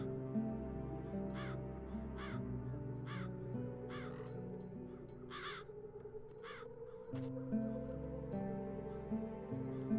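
Crows caw in The Dark Eye: Chains of Satinav, a run of separate harsh calls spaced about a second apart over a steady low musical bed, with a sharp click partway through.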